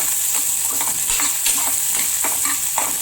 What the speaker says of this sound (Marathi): त्यामध्ये घालणार आहोत कांदा, कांदा व्यवस्थित परतून शिजवून घ्यायचा आहे।